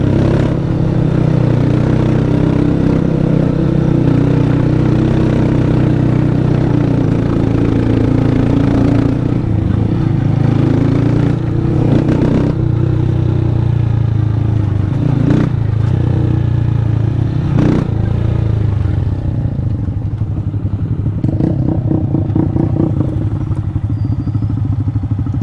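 A motorcycle climbs a dirt road in second gear, its steady engine drone running throughout with intermittent clattering knocks from the rough track.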